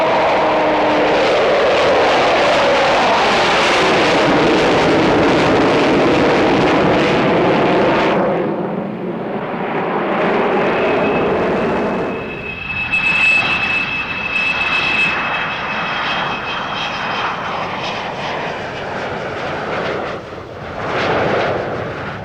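Avro Vulcan XH558 delta-wing bomber flying past with a loud, roaring jet-engine rumble that sweeps and fades, then a rising whine-like engine tone returns as the aircraft passes; no voices.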